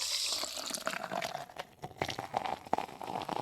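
A frothy drink poured into a glass right after being cracked open, giving a steady splashing, gurgling liquid stream with fizzing, moderately close and without talk.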